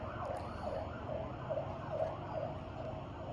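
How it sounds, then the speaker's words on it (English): A police siren wailing faintly in the distance, its rising and falling tone repeating steadily over a low traffic rumble, with no one speaking. "Police sirens."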